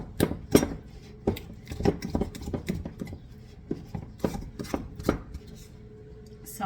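A spoon stirs a sponge culture in a container, giving a series of sharp, irregular clinks and scrapes at close range, fairly crisp and alone.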